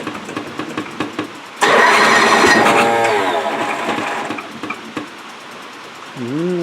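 A Craftsman DYT4000 hydrostatic lawn tractor engine cranks and briefly catches with a loud, close roar, then sputters down to a weaker rumble before dying, with faint clicking around it.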